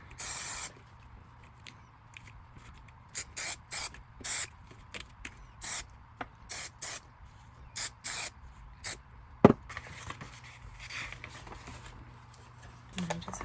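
Spray can spraying paint onto paper: a string of short hissing bursts of uneven length with pauses between, close and fairly faint over a low background hum, with one sharp knock partway through and softer rustling after.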